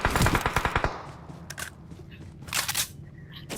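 Gunfire in PUBG on the Erangel map: a rapid burst of close automatic shots opens, followed by a few sparser cracks and scraping clatter, fairly loud and alone without talk.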